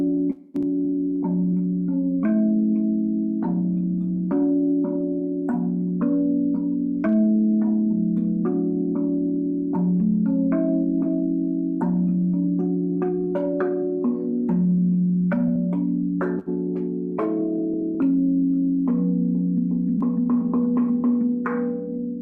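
A Zen Percussion Guda 2.0 tongue drum tuned to a Celtic minor scale plays a steady, flowing melody of bell-like struck notes. Each tone rings and overlaps the next in a close, clear, sustained performance with no talking.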